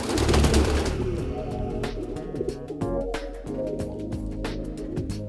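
Pigeons in a loft, a busy dense layer of overlapping coos and calls with some low rumbling, steady and close throughout, with a few sharp clicks or wing flaps scattered through.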